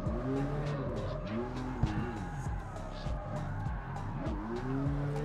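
Car drifting in the street racing game CarX Street, engine revving up and down in sweeping tones with tire squeal and skid noise running throughout, fairly close and steady.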